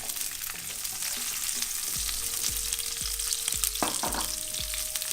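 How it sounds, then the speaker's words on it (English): Vegetables with garlic and onions frying in a pan, part of a halal fish balls in sweet chilli sauce dish. A steady, close sizzle runs throughout, with regular low knocks from stirring and a faint hum in the background. "So just cook the vegetable a little bit, okay, here, and then a bit more garlic. Then we add the onions."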